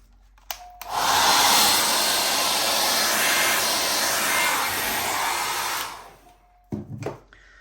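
A hair dryer blows steadily over acrylic paint for about five seconds, a loud, continuous whooshing roar that switches on abruptly and cuts off, followed by a couple of faint knocks.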